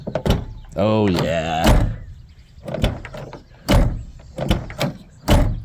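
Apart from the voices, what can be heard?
Toyota AE86 car door closing and opening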